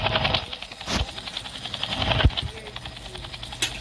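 Helicopter engine in an SCP Foundation video game: a steady, whirring, rhythmic mechanical drone runs throughout at moderate loudness, with voices talking over it.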